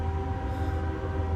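Freight train horns blare in Manteca, a loud sustained chord holding steady and close with a deep rumble of the passing train beneath it.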